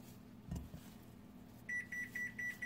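A kitchen oven signals it has reached its 350-degree preheat temperature with five evenly spaced electronic beeps, clear and close over a low room hum, following a single brief knock.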